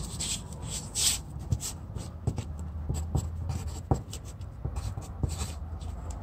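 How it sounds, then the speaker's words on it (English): A pen scratching out a handwritten measurement during a kayak hatch install: close, rubbing strokes with short taps and pauses, moderately loud and with no voices. "and we're going to write down..."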